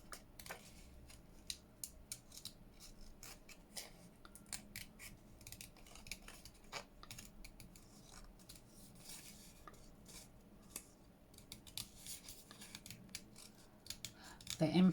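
Scissors snip through paper for a junk journal window flip-out, a quiet run of small irregular cuts spread across the whole stretch, close by, with soft background noise and a louder rustle near the end.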